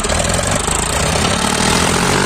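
Diesel farm tractor engine, a 55 to 60 HP class machine like an Eicher or Sonalika, running steady and loud up close with a dense rumbling drone throughout, no talk.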